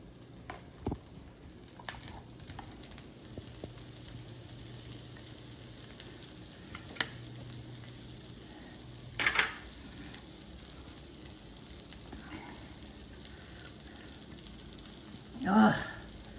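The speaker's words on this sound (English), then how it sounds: "I'm going to put the sauce in this pan." Pistachio pesto sauce sizzling in a hot pan just after minced garlic fried in oil, a steady low crackle with occasional stirring and utensil clatter, including a sharp knock near the end.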